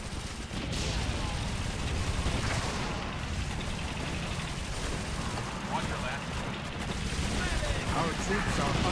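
Continuous gunfire and artillery rattle through a Blitzkrieg 3 battle for the Liberation of Paris, a dense, steady barrage of shots and blasts with game voices mixed in.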